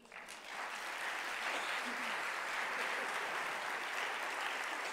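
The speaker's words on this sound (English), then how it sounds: "you need to give them a round of applause." A concert audience applauds a jazz orchestra after an afternoon performance, with thick, sustained clapping that builds in the first second and then stays steady and fairly distant.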